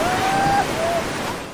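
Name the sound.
wind and waves on an artificial lake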